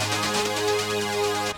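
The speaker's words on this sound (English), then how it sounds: "take a listen to this noise groove here" Noise groove layer of a sci-fi preset in Arturia Pigments: a dense, sustained hissy synth texture with a steady low drone and faint rhythmic pulsing, playing alone before cutting off abruptly.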